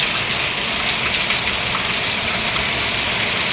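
Heavy monsoon rain pours steadily around a home kitchen, a dense, unbroken hiss of water falling on surfaces, loud and close throughout, with no voices.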